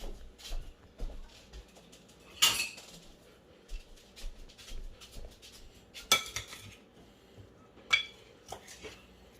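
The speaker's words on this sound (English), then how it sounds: "Let me get a spoon real quick, because it's not working." Cutlery and dishes clink in a home kitchen while someone fetches a spoon during Jamaican oxtail cooking, with a few sharp metallic clinks standing out over scattered low clatter and handling noise.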